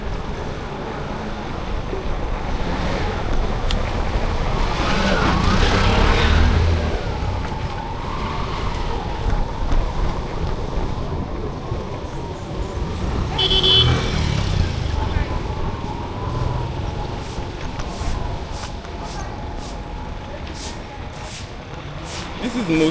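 Homemade 5kW electric bike converted from a regular bicycle rides along in pedal-assist mode, with steady broadband road and wind noise and a faint motor whine throughout, while people talk.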